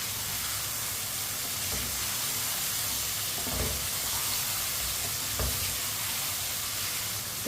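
Chopped tomatoes and finely cut green chillies sizzle in a pan for a turnip and chicken curry, a loud, steady frying hiss with occasional stirring scrapes and no talk.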